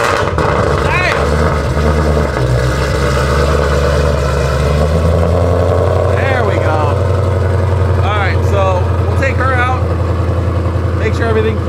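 A 1000hp Toyota Supra engine fires up and runs at a loud, rough idle, with sharp revs rising and falling over it while people talk nearby.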